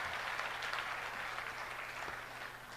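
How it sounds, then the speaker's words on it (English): Steady applause from a crowd at a business summit, an even wash of clapping that holds at a moderate level throughout. "give a big round of applause to all the 167 applicants?"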